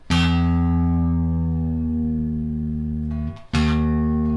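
A single plucked guitar string rings out and its pitch slides downward as it is tuned lower, then it is plucked again.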